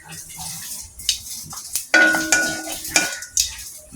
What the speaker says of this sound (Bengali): আমার জিরাগুলো ফুটে যাচ্ছে